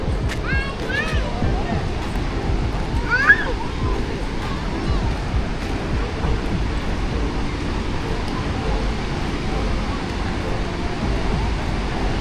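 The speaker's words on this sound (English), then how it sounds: "See, this is the Bharachukki Waterfalls," A constant, broadband roar of rushing water at the Bharachukki waterfall at Shivanasamudra fills the whole scene. It sounds distant and steady, with faint voices and general crowd hubbub mixed in.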